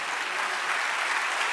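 A church congregation claps together in a brief, dense burst of applause during a sermon, with no voices over it.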